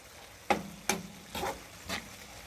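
Curry shrimp cooking in a pan, with four short scraping stirs and brief sizzles spaced about half a second apart, quiet and close, with no talking.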